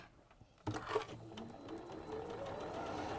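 Sewing machine stitching a quarter-inch seam at a quilting and Christmas-makes event, starting abruptly after a quiet moment and then running in a steady, fast mechanical whir with rapid needle ticking, close and fairly quiet.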